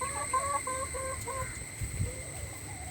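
Chickens including a rooster and a Gramashree hen, with a run of repeated close clucks early on over a soft farmyard hum, then quieter scattered fowl sounds and a steady high insect-like whine, no voices.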